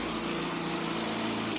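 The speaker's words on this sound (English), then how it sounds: "I'm just letting the weight of the drill do its thing." A power drill runs continuously at steady speed with a loud, even whine, then winds down abruptly at the end.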